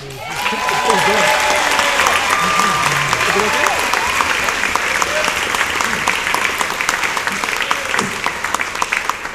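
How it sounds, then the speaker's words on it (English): A large audience gives a sustained round of applause at a civic celebration, dense and loud clapping that holds steady for several seconds before starting to thin, with voices audible beneath it. "I'd like you to give a round of applause for, and Marion Tankersley and Jan Dean."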